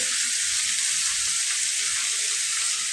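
Bitter gourd fries in a pan, giving a loud, steady, hissing sizzle of hot oil that stays constant throughout, close up and with no talking over it.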